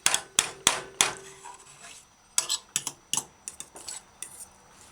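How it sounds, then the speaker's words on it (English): A metal fork stirring salted fish pumpkin rice in a pan, heard as sharp, bright clanks and scrapes against the metal, irregular and close, in two bursts separated by a short pause, with no talking. "Use the fork, flip the bottom to the top and vice versa."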